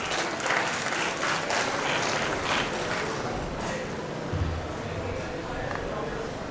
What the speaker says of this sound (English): newly joined Professor Shruti Jaiprakash, with a big round of applause.